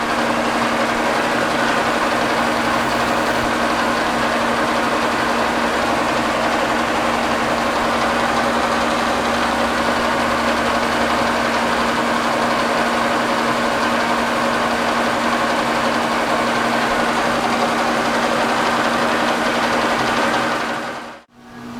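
A machine runs at about 666 RPM during a skim cut with tapping fluid applied, a loud, steady mechanical hum with a constant tone and grinding texture, close up, stopping abruptly at the very end.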